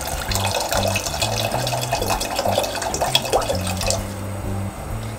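Water pouring into a chicken broth soup base for noodle soup, a steady splashing trickle under a repeating low musical tone, ending in quieter liquid sounds.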